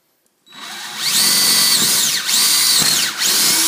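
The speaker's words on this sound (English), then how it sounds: "So I'm gonna start drilling." A power drill whirs up to speed and grinds steadily into a door while installing a patio pin lock, its pitch dipping twice as the bit bites under load.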